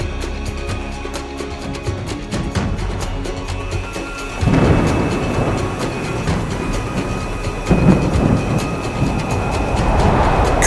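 Thunderstorm in a Turkish mythology short film: a continuous low rumble with two heavier thunder surges, with no speech.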